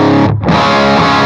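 An electric guitar plays through a Fractal amp modeler with a pig nose cab, giving a loud, heavily distorted sustained tone with a brief dip before the chord rings on. No talking.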